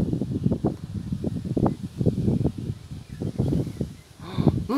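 Strong gusty wind sweeping an Alpine valley near Grenoble as a thunderstorm with an arcus cloud arrives, 75–100 km/h gusts buffeting loudly in uneven surges close to the microphone, with dust blowing.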